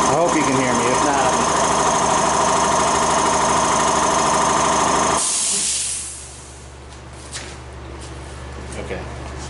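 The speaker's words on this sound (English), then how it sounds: "you guys have probably watched me sand enough" Loud continuous whine and hiss of a power sander working the passenger side door of a 1974 MGB, close and steady for about five seconds before cutting off into quieter room noise.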